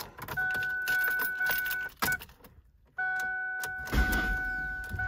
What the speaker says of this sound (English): Just want to see if that starter spins.